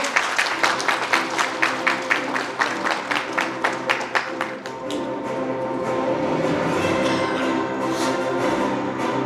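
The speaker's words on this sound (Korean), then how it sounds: "여러분 다시 한번 박수로 환영해 주십시오" Audience at an industrial complex investment briefing claps to welcome the county governor: a few seconds of clear, rhythmic unison claps, then loose, steady applause that carries on, moderately loud.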